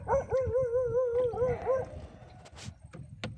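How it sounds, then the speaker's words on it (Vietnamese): A dog near a rural canal in Vietnam gives a drawn-out, wavering howl-like bark lasting under two seconds, fairly loud over outdoor background noise, followed by quieter rustling. "Có sủa dữ."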